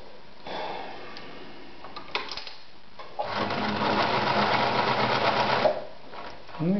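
A Victoria Super Deluxe 118F sewing machine stitches. A few brief clicks and short runs come first, then a loud, fast, rhythmic mechanical whirr lasts about two and a half seconds before stopping, with no talk over it.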